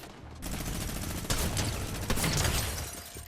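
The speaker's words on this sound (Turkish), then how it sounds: "Sadece minigun sıktım" A minigun firing in the video game Fortnite, a long, continuous, rapid roar of shots that starts abruptly, stays loud and dense for nearly three seconds, then eases off.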